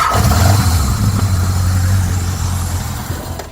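A 1978–1981 Yamaha XS1100 air-cooled, shaft-drive motorcycle engine revs and runs loudly nearby, a rough throbbing roar that eases off toward the end.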